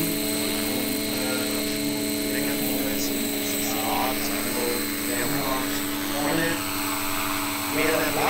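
Electric model Eurocopter EC-145 helicopter in ADAC livery lifting off at an outdoor flight demo, a steady, fairly close rotor and motor whine holding throughout with faint background crowd noise.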